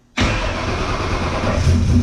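A car engine labelled TurboGary, with the throttle body opened a little further, cranks and catches, then runs steadily and loud for about two seconds with no one talking.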